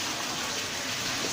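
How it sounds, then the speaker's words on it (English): Garden fountain fed by a waterfall in an ornamental fish pond, a steady, close rushing and splashing of water with no talking. "a fountain here from the waterfall."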